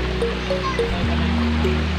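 Forest stream water flowing steadily, a continuous broadband rush close by with no talk over it, plus a low steady hum running underneath.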